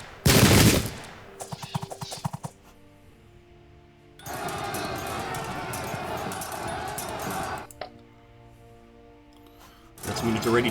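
Gunfire in the Custer's Last Stand battle game's shooting phase: a loud rapid volley at the start, a stuttering burst of shots, then a long sustained roar of massed fire, and another volley at the end.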